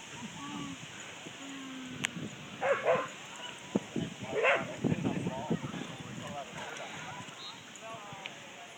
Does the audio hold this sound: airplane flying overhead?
no